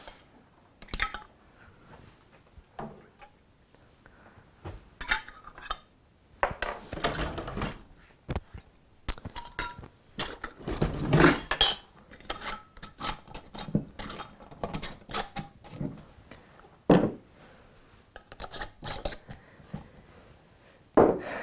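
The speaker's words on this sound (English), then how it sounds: "I'm pouring the juice on top and sealing them up." Quart jars of cranberry juice being filled and sealed with hot sterilized lids, giving scattered glassy clinks, knocks and handling clatter at irregular intervals with quiet gaps between.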